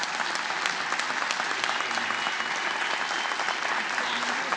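Audience applause fills a congressional chamber, a dense, steady wash of clapping from many hands that holds loud and unbroken throughout.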